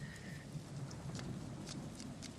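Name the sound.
rain in Friday the 13th Part VI film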